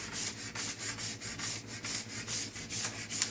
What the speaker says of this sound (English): keeps the scraper closer to my body instead of a big long stroke.